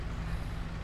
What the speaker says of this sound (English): There's a diesel truck outside my house.